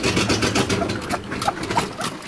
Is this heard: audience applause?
no